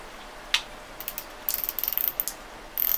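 Penn Fathom 2 Speed lever drag fishing reel being worked by hand, with bursts of fast metallic ratcheting clicks as the gear engages and disengages, close and alone.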